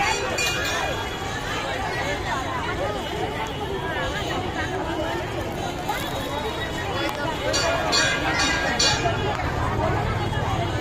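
Crowd at a temple pond bathing ghat at a Shiva temple at Ganga Sagar early in the morning: a steady dense babble of many voices with occasional clinks, continuous and close throughout.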